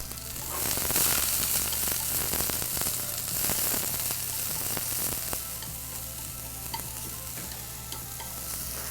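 Cabbage tossed quickly in a hot pan over high heat sizzles loudly and steadily, with repeated scraping and stirring strokes, easing slightly toward the end; no voices.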